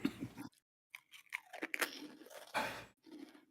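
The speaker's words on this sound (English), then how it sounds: "What are you munching? No, that was a stack of Pringles." Pringles crisps crunch loudly in a stack, close to the mouth, with bursts of biting and chewing broken by brief silences.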